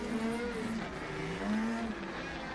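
Snowmobile engines howl in a snowmobile cross championship race, a steady high-pitched whine rising and falling in pitch as the machines pass at moderate distance, with no voices.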